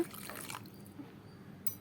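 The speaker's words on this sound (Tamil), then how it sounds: "இதிலே கொஞ்சம் தண்ணி ஊற்றி" Water poured into a mashed thoothuvalai soup mixture in a kitchen pan gives a faint, brief liquid splash and trickle that quickly fades to a quiet background.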